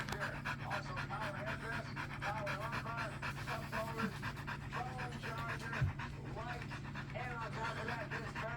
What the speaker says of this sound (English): Why are you panting so hard, baby?